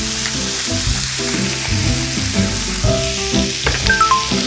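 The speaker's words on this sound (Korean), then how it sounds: "기름이 어느 정도 나왔을 때 구운 앞다리살을 넣어줍니다. 그리고 잘라준 채소도 넣어줍니다." Pork shoulder and cut vegetables frying loudly in rendered fat in a pan, a dense continuous sizzle with crackling pops and clinks of stirring throughout, close and with no talking.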